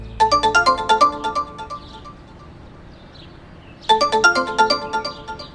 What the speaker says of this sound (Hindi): मन्नू ने मोबाइल देखा, शिवानी कॉल कर रही थी